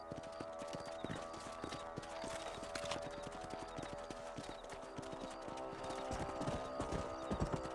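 Horses trotting under riders in the Western video game Red Dead Redemption, a steady rhythmic clip-clop of hooves on dirt with an occasional whinny, continuous and close.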